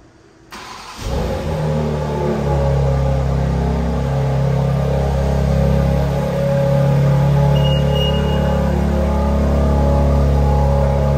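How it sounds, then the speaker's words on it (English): A BMW X4M Competition starts by remote after near silence, firing up with a loud surge, then settling into a strong, steady idle drone, close by and without talk. "by triple clicking the lock button, it's gonna remote engine start for us"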